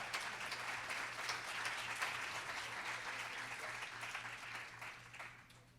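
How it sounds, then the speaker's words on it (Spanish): Church congregation applauding through a sermon, a steady, fairly faint wash of many hands clapping that holds level and then thins out near the end. "Si usted quiere aplaudir, aplaudir de verdad."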